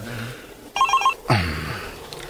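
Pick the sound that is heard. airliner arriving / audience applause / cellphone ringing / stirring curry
cellphone ringing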